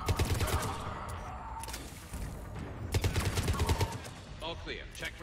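Bursts of rapid automatic gunfire ring out in the Mass Effect 3 Legendary Edition shooter during a combat mission, fairly loud volleys with brief pauses, followed by a short electronic tail near the end.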